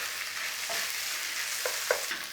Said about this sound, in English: we're just going to put a little bit of cooking on that sausage meat